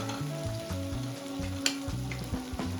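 Tomatoes with turmeric being sautéed in a pan for a dried-shrimp chutney: a steady close sizzle under low humming tones, with a few sharp scrapes and clicks of a spoon.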